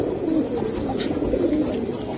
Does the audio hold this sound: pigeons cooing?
yes